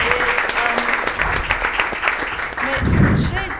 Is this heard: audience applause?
yes